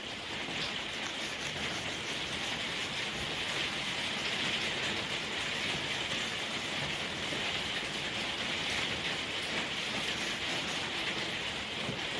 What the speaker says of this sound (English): Just a little bit of rain then.